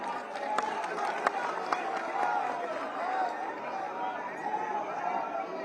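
A crowd at a Samajwadi Party traders' rally claps continuously, a dense, fairly distant wash of applause with a few sharper claps, mixed with crowd chatter throughout.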